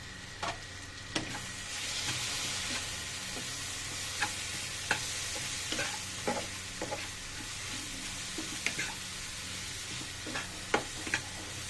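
Spices with turmeric frying in a pan give a steady low sizzle, while a spoon scrapes and taps the pan at irregular intervals as they are stirred.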